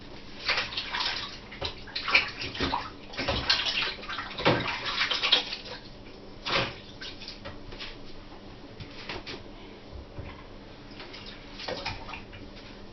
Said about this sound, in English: run your hands under a little bit of cold water so your hands are slightly damp